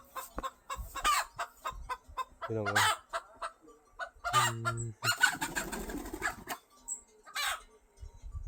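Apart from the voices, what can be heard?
chickens clucking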